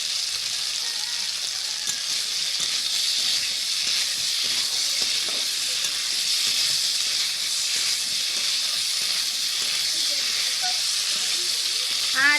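Spices, fish and banana flower sautéing in a pan for a curry, a steady loud sizzle and hiss with faint stirring scrapes, continuous throughout and close.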